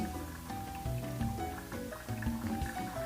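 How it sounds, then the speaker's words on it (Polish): Hot water is poured in a thin stream over ground coffee in a pour-over dripper at home, giving a steady close trickle and dribble with small pitch shifts as the brewer fills, and no talking. "I kontrolując to, jak się przelewa, dolewamy wodę lub robimy takie krótkie przerwy"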